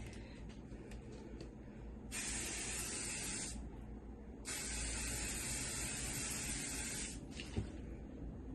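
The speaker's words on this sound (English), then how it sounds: "And then we're gonna use hairspray." Hairspray hisses from an aerosol can onto hair in two long bursts of several seconds each, with brief shorter puffs around them, close and steady against a quiet room.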